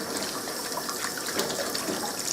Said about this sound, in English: I'm going to take it and just rinse it completely under the water.